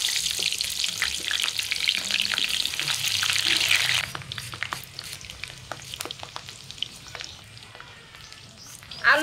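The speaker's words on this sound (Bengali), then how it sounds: "তেলও গরম হয়ে গেছে, এখন গরম তেলে আলু দিব" Potatoes hit hot mustard oil and fry with a loud, bright sizzle that settles after a few seconds into a quieter, steady crackle close by.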